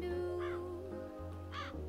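A crow in the cozy Calico video game caws twice with spaced, harsh calls over a steady droning game music bed with sustained tones.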